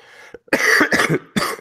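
Someone coughs several times in quick succession, harsh and close, after a short throat clearing.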